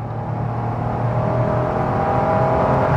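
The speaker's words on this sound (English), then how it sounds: "it accelerates and it sounds fantastic" A 2015 Honda S660 small-engine roadster accelerates at speed on a motorway, its engine note rising steadily under wind and road roar, close and continuous.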